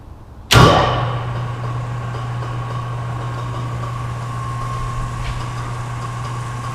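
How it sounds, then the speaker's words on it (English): A Monarch CK12 lathe driven by a 5 horsepower motor starts with a sharp clunk and settles into a steady, close mechanical hum and whir, running alone without talk. "I just want to make sure that it's running, give it a test run"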